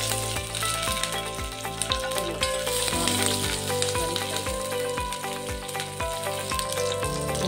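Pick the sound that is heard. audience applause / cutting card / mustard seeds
mustard seeds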